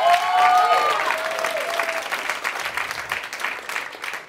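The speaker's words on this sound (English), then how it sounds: "I want you to give a round of applause" Audience at a stand-up comedy show breaks into loud applause and cheering, with a brief whistle at the start, then sustained dense clapping that gradually thins out.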